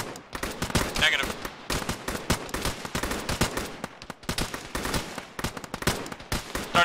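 Rapid gunfire rattles through a tactical Arma firefight, dense bursts of sharp cracks and machine-gun strings from several weapons overlapping near and far, with short pauses between volleys.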